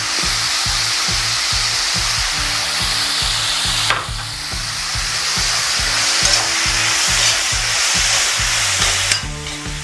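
Sliced onions sizzling in a hot pan with a little salt, a steady loud frying hiss with stirring scrapes, close and continuous throughout, over a faint repetitive background beat.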